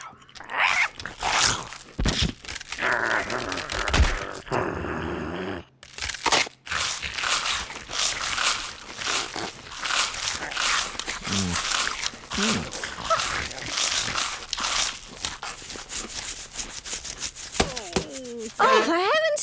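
Toast crunched in repeated bites during a cartoon breakfast scene: a steady run of crisp, close crackling chews, with voices talking over them.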